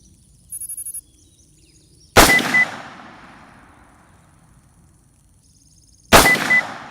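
Two sharp rifle shots ring out several seconds apart at a distant target downrange, each a loud crack with a long fading echo, with a faint electronic beep before the first.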